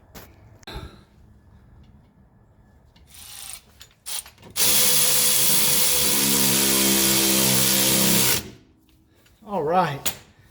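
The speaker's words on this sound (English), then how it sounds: "Let's get our nut on here, and then we're in the clear." A ratchet clicks in a long, steady, loud run as a nut is tightened on the front suspension of a 1985 Mercedes 300SD, with brief clanks before it and a short voice after.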